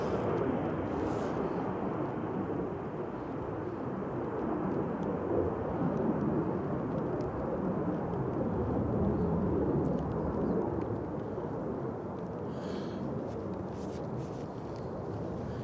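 Etihad airliner at Manchester Airport on a stormy day, a loud, steady broadband jet roar held close throughout without letup, with wind noise mixed in.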